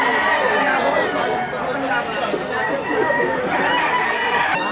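Roosters crow over the busy chatter of a Batangas chicken market. Many voices and clucking fowl form a dense, steady wash of sound, and the crowing rises from within the crowd noise.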